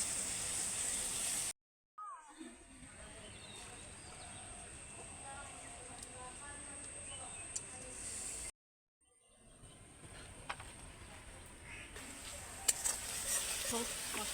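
Spice paste (masala) for tilapia curry fries in a pan with a soft, steady sizzle, broken by two short silent gaps, with faint voices now and then in the background.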